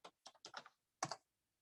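Quick keystrokes on a computer keyboard, a short burst of about five light taps followed by two more after a brief pause, close and quiet.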